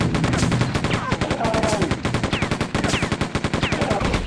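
Rapid, loud bursts of gunfire from a gun in the video game Quake 2 in virtual reality, a steady stream of closely spaced shots with a few brief gaps.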